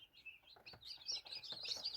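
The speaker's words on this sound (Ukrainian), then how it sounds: "Це пухові курчатка," High, thin peeping from several tiny downy chicks, newly hatched in an incubator, close by and fairly quiet, chirping in quick overlapping bursts.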